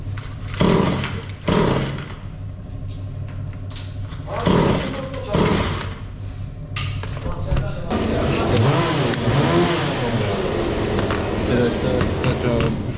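A Husqvarna 236 chainsaw, recently overhauled after being scrapped and with water seeped inside, is pulled several times in loud bursts, then catches and runs with a steady buzzing engine drone, close up, with voices nearby.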